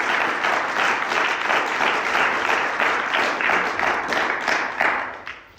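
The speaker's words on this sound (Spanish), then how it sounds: "fuerte el aplauso si es para el Creador." Audience applause during a lecture, dense, loud clapping from a crowd in rhythmic waves, holding steady before tapering off at the end.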